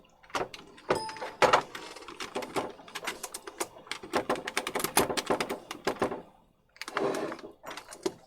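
Loud, irregular clacking and banging of a computer keyboard being typed on hard, with bursts of rapid keystrokes separated by short pauses, close to the microphone.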